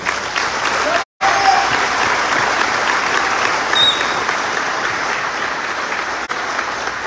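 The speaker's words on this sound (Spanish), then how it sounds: "les pido un fuerte aplauso" Loud, sustained applause from a large crowd at a Mexican government report event, continuous clapping with a brief dropout near the start and faint cheering mixed in.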